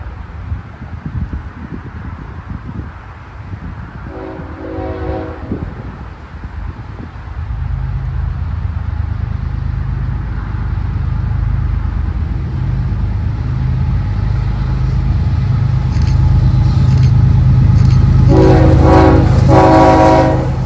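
CSX freight train L325 heading southbound on the Burt line toward the Budweiser plant in central Ohio, a short horn blast, then a growing rumble of locomotives passing close, and a longer horn blast near the end.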